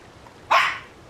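A single short dog bark, sharp and fairly loud, cuts in alone over quiet background in Palia.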